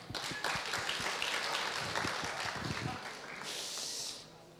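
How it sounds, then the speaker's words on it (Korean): A congregation applauds during a church sermon, a dense burst of clapping for about three seconds that fades into a softer hiss, with the preacher's voice coming through faintly. "자, 박수."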